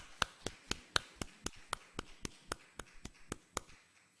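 Rhythmic hand claps from a church congregation at a Sunday worship service, about fifteen sharp, evenly spaced claps ringing out in a steady beat with no voices over them.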